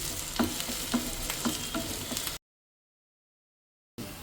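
Finely chopped ginger and green chilli fry in hot oil with a steady close sizzle and occasional stirring knocks, which break off into sudden silence and then resume briefly.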